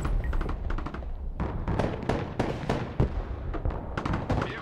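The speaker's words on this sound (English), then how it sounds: "Someone knows how to use artillery on their side now." Artillery explosions from the Broken Arrow strategy video game boom in a rapid irregular barrage, many sharp blasts in quick succession at a loud, close level, with no speech over them.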